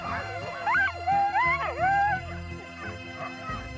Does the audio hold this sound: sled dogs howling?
yes